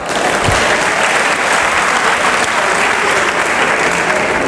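A church congregation applauds in praise of the Lord, loud sustained clapping from many hands filling the room without a break, faint voices mixed in.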